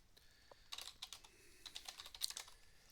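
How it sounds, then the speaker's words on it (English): Rapid clattering keystrokes on a computer keyboard as commands are typed into a text-based MUD game, irregular bursts of clicks close to the microphone with brief pauses between. "So it's all just typing commands in."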